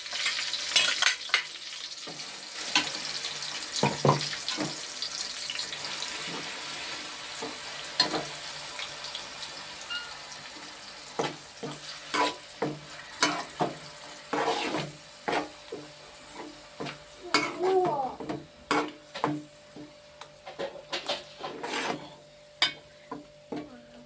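Tomatoes fry in a pan with a soft, continuous sizzle, while a utensil scrapes and taps against the pan in irregular stirring strokes that come close and clear, with no talking.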